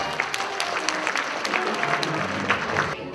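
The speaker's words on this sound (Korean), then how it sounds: "큰 박수를 부탁드리겠습니다" Audience applause at a Yonsei MBA award ceremony, a steady dense wash of clapping from a large crowd filling the whole stretch at even loudness.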